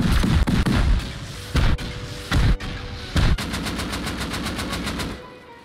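Berdanka rifle fire in the video game Rust: loud, close shots in several bursts, followed by a long rapid string of evenly spaced reports that trails off.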